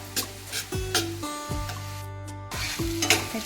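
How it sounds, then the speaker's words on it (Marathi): Chopped onion sautés in a pan for prawn masala, with a spatula scraping and stirring in repeated strokes through a constant close sizzle, soft background music underneath. "हा कांदा आपला चांगला शिजवून घेणार आहोत आपण"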